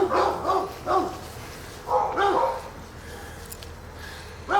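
Dogs guarding an abandoned house in Detroit bark in short clustered bursts at middle distance, several barks in quick succession, pausing and then starting again, with faint outdoor background.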